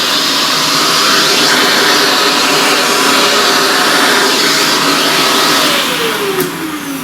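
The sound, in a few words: vacuum cleaner running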